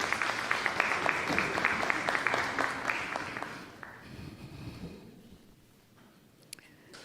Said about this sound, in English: you're applauding St. Margaret's Boys Anglican for that wonderful start to this morning's proceedings